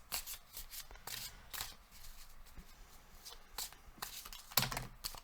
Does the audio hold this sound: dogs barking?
no